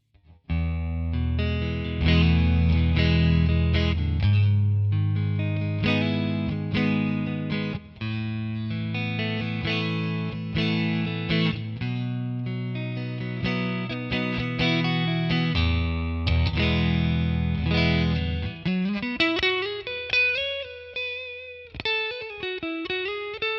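An electric guitar plays chords and melodic phrases through a clean Two Rock amp model in Tonex, ringing out clearly with some sustained notes and bends near the end.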